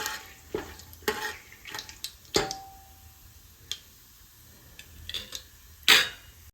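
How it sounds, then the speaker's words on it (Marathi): A handful of peanuts dry-roasting with bay leaves in a pan over medium heat for masale bhat, giving quiet, scattered scrapes, clinks and rattles as they are stirred, with soft gaps between strokes and no talking. "शेंगदाणे चांगले मध्यम आचेवरती भाजून घ्यायचे खरपूस असे"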